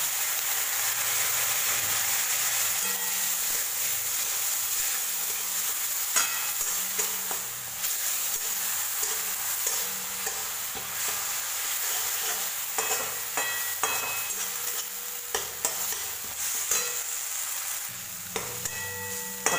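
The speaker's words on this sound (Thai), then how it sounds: "แล้วเราก็ผัดกันต่อไป" Spices for green mung dal stir-fry in a pan with a steady soft sizzle, punctuated by repeated scraping and clinking of a spatula stirring against the pan, close and moderately quiet, with no talking.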